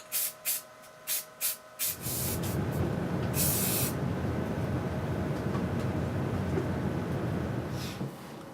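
An aerosol can rattles in a few short shakes, then sprays paint through a stencil onto an SM57 microphone body in one long, steady, close hiss that lasts several seconds.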